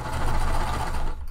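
A domestic sewing machine fitted with a walking foot runs a quick burst of stitching through slippery Minky fabric on a puff quilt pillow, a close, even mechanical whir that stops abruptly after just over a second.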